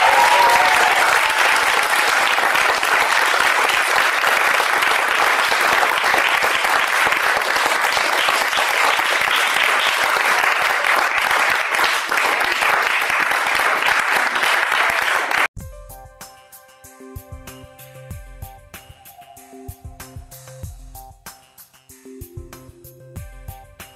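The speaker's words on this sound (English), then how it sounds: "a huge round of applause" Sustained, loud audience applause at a London mela staging a Bengali jatra folk theatre performance, filling most of the clip before cutting abruptly to quieter tonal music.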